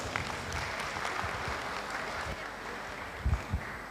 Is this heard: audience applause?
yes